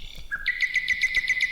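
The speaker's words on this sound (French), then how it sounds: "l'oiseau chante pour y remédier" A nightingale sings a quick run of bright, repeated chirping notes that rise into a rhythmic trill. It is clear and close with no voices.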